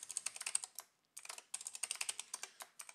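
Password being typed on a computer keyboard: close, rapid clicking keystrokes in bursts, broken by a short pause near the one-second mark, with no voices.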